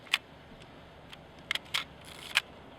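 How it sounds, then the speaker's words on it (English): Film camera shutter fired several times to advance the film after loading, with four or five crisp, close mechanical clicks spaced irregularly in a quiet room. "you can close the back and then fire the shutter a few times"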